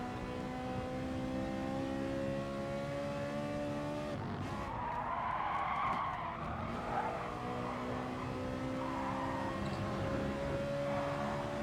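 Gran Turismo Sport race car braking hard into a corner, tyres skidding and squealing briefly under a steady engine drone that drops in pitch, then the engine hums on as the car settles behind another car.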